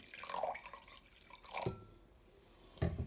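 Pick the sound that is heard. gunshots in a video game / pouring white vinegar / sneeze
pouring white vinegar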